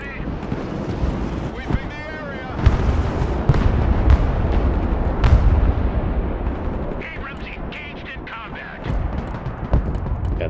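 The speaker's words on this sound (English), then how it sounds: "Another volley of ballistic missiles!" A volley of ballistic missiles explodes in the Broken Arrow strategy game, producing dense, rumbling blasts and sharp cracks that pile up over a continuous roar, with game voice lines and battle chatter mixed in throughout.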